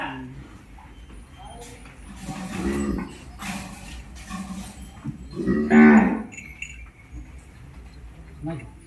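Cows moo nearby, two drawn-out lows a few seconds apart, while people talk in the background.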